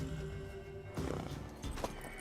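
A mare from The Witcher 3 gives a loud, shaky neigh that breaks off partway, followed by a brief snort and a few hoof clops, all heard up close with no voices.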